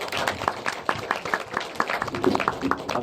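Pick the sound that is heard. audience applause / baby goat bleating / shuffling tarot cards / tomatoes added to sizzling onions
audience applause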